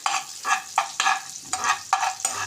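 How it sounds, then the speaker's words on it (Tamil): Chopped garlic fries in melted butter in a pan, a close sizzle pulsing with quick, rhythmic stirring strokes about every quarter second. "பூண்டை பட்டரில் ஃப்ரை பண்ணி எடுத்து வச்சுக்கணும்"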